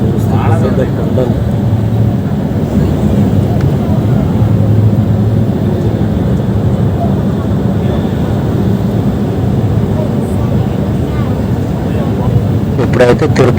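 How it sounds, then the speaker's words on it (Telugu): A passenger plane descends to land at Tirupati airport, its engines heard from inside the cabin as a loud, steady, unbroken roar, with voices faintly beneath it. "ఇది తిరుపతి ఎయిర్పోర్ట్లో ల్యాండ్ అవుతుంది చూడండి"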